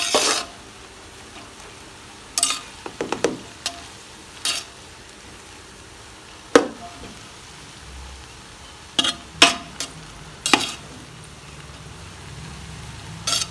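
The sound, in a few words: stir-frying chicken fried rice in a wok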